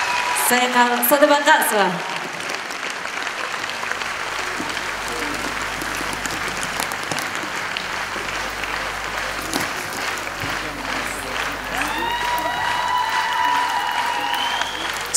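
Audience applause fills a concert hall at a 15-years-on-stage show concert, sustained and dense throughout, with a host speaking over the start and music rising near the end.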